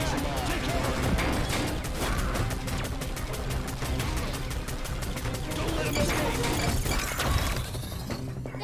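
Rapid gunfire crackles in the co-op roguelike video game Battle Planet Judgement Day, dense repeated shots in a fast steady rhythm with loud impacts layered over game sounds.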